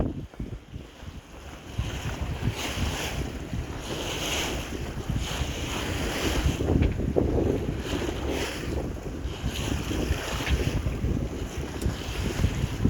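Strong wind buffets a boat on central Lake Okeechobee, Florida, on an overcast day, a continuous loud rushing roar with microphone gusts and low water slapping underneath, with no voices.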